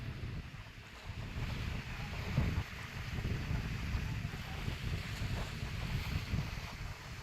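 High tide water washes along the Harihareshwar seashore while wind buffets the microphone, a continuous low rumble of surf and gusts with no clear voices.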